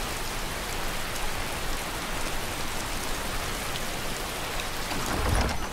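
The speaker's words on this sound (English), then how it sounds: "I just need it to not be raining and freezing all the time" Steady rain pours in a cold, freezing landscape in heavily modded Skyrim, a dense, even hiss that carries on throughout with no voices over it.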